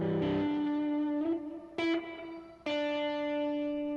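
An electric guitar runs through a Blue Sky reverb pedal set for shimmer reverb: a few quiet, sustained notes are struck one after another, each blooming into a long, washy decay.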